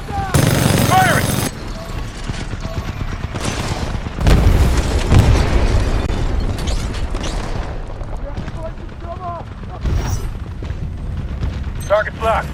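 Titanfall 2 artillery strikes land as heavy booming explosions with deep rumbling tails, rolling one after another over twelve seconds. A loud burst opens the run and a big blast hits near the middle, with voices talking in the mix.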